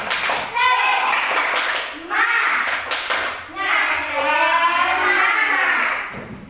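Children in an elementary school classroom clap a rhythmic spirit cheer in bursts, with lively kids' voices chanting and talking over the clapping throughout.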